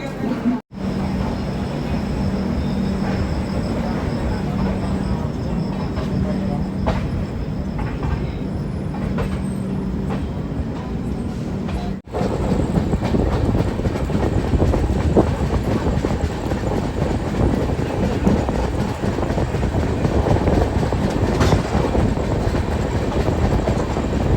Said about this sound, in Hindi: भाई बरेली से लाइन क्लियर हो गया है, हमारी ट्रेन यहाँ से खुल चुकी है।